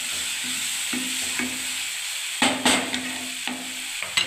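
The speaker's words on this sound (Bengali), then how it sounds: "এবার আমি এটাকে নাড়তে থাকবো বন্ধুরা, কষতে থাকবো মশলাটাকে" Spice masala is stirred and fried in a pan while cooking a soybean and potato curry: a continuous sizzle with repeated scraping strokes of the spoon, a few sharper clanks of utensil against the pan near the end.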